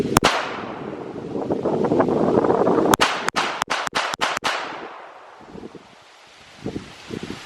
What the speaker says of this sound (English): on this magazine we're just going to mag dump and see how fast we can get these shots off.